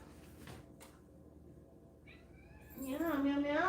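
A pet cat meows at dinner time in a home, a rising and falling cry near the end after a cupboard bump, while someone speaks softly to it.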